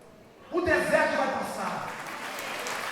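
A church congregation breaks into applause that swells suddenly, holds as a dense wash of clapping and slowly eases, with a voice speaking over its start.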